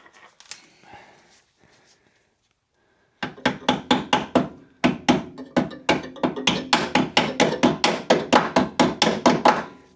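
Rapid metallic hammer taps on brake parts of a Dodge Diplomat police car ring out in quick, even bursts, loud and close, following a few quieter clinks and some silence.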